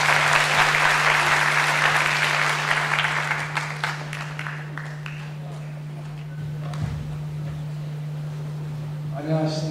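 An audience at a public hearing breaks into applause, loud at first and then fading away over several seconds. A steady electrical hum runs underneath, and a voice briefly speaks near the end.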